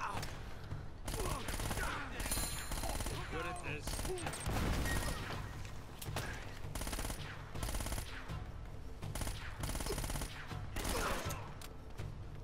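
Rapid automatic gunfire from a video game, Uncharted: Drake's Fortune, crackles in dense repeated bursts throughout the stretch, fairly loud against a busy game soundscape.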